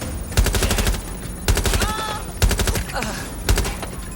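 Automatic gunfire in the video game Watch Dogs: several loud, rapid bursts of shots come at roughly one-second intervals, with a voice shouting briefly between them.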